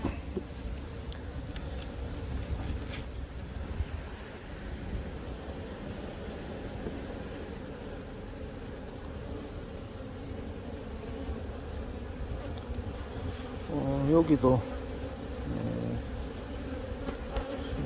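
Steady, droning buzz of many Korean native honeybees close by at an opened wooden hive in winter, continuous throughout, with someone briefly speaking over it near the end.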